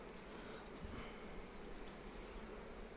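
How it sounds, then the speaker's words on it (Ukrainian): A dense, steady buzzing of many honeybees fills the air, continuous and close, with no pauses. "І Так уже чимало ж і бджоли. Та літає ось у повітрі."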